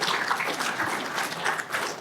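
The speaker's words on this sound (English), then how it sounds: "You can applaud that." A short burst of audience applause at a political gathering, even and continuous with slight swells, with no talking over it.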